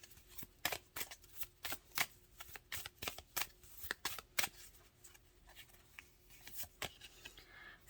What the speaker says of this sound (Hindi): मैं एक दफ़ा फिर शफल कर दूं।